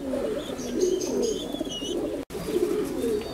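A black American breeder pair of fancy pigeons on a farm in Multan coos softly, low throaty rolling calls repeating close by, with faint chirps from other birds in the background.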